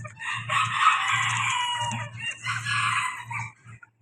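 A bantam rooster crows loudly and close by in two long calls, with softer clucking beneath.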